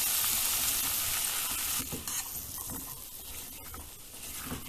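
Spices sizzle in a pot on low heat while cooking potato peas pulao, a faint, steady frying hiss punctuated by a few soft stirring clicks and scrapes, heard close with no speech.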